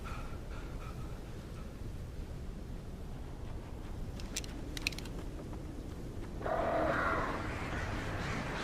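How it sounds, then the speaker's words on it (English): Crows caw in the video game Alan Wake Remastered, a few faint caws heard in the distance over a constant dense ambient rumble, with creaking mechanical noise toward the end. "Birds."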